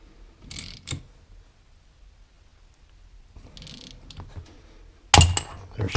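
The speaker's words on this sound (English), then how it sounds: "Got a 2-jaw puller hooked up." A two-jaw puller works a gear off the tapered, keyed shaft of an Eisemann RC-2H magneto from a Caterpillar D2/D4 pony motor, with faint clicks and scrapes, then a sharp loud metallic pop and clatter as it breaks free near the end.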